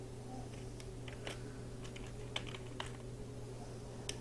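Computer keyboard typing while entering a formula into Google Sheets: scattered, light key clicks, close and quiet, over a steady low hum.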